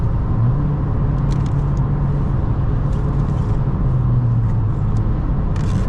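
A 2018 Honda Civic Si with a 6-speed manual cruising in sixth gear, a steady low engine and road rumble heard from inside the cabin, constant and fairly loud.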